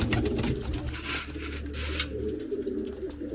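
Pigeons coo in low, repeated throaty calls nearby, layered with fluttering and scattered bird noise throughout.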